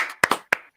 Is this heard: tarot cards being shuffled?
no